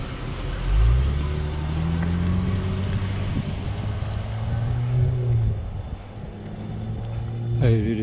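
A car passes on a nearby road with a broad engine rumble that swells early, fades, then builds again toward the end, accompanied by some tonal engine hum.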